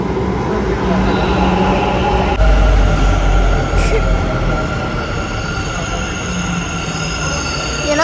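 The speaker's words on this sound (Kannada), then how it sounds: "ಏನೋ ಸೌಂಡ್ ಆಯಿತು ಮೆಟ್ರೋ ಇಂದ" A metro train rumbles past close by, with a steady heavy roar of wheels on track, metallic rattling and a brief high squeal partway through, loud throughout with no pause.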